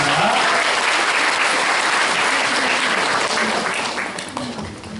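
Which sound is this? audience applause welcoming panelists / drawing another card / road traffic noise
audience applause welcoming panelists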